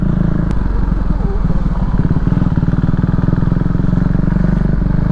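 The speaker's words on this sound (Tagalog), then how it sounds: "Sarap pala magmotor dito." Motorcycle engine riding through the UP campus in Quezon City, a steady close chugging rumble with rhythmic pulses that holds throughout, with brief voices under the engine noise.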